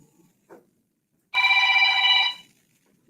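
A telephone rings once in a single loud, steady electronic trill lasting about a second, set against near silence with a faint rustle just before.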